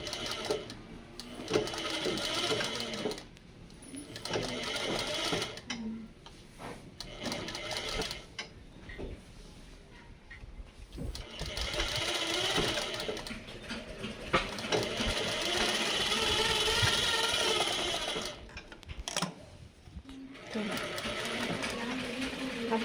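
Sewing machine stitching the front panel of a blouse, running in repeated rhythmic bursts of rapid stitching with short stops, while someone talks throughout.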